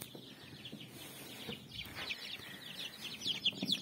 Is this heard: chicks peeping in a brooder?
yes